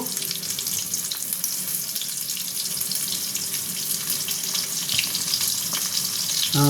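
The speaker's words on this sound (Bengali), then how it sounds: "আমি বেগুনটা লাল লাল করে ভেজে নেব।" Eggplant pieces fry in a pan with a dense, steady hiss that runs throughout at moderate loudness, with a few soft clicks near the end.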